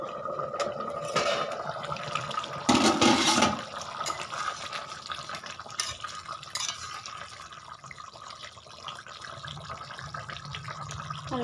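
Desi chicken curry bubbling in a pot in a village kitchen, a faint watery simmer that surges briefly around the third second before settling back into a soft steady boil.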